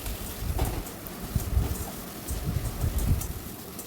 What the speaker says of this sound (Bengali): এরপরে আমি আদা রসুনের পেস্টটা আমি দিয়ে দেবো দিয়ে এবার সুন্দর করে মশলাটাকে রেডি করবো কষতে কষতে